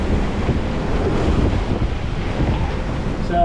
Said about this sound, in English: But now it's blowing 30 knots of wind.